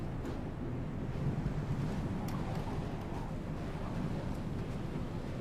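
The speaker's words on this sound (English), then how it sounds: "It's also really windy." Wind blows through a snowy outdoor scene in the video game Cast In The Shadows, giving a constant rushing, gusting roar with faint clicks on top.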